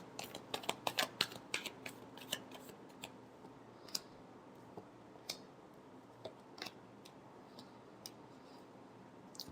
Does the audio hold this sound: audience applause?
no